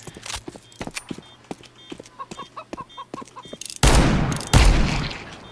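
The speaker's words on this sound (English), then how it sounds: "You hold still, it's real easy to hit the revolver shots." Revolver shots in the video game Counter-Strike 2: light, rapid clicking and tapping lead into two loud, heavy gunshot blasts fired about a second apart, close and booming, with no talking.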